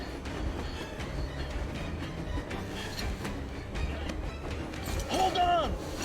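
Trains in a video game rumble and clatter steadily with a metallic squeal near the end, under ongoing talk from a player.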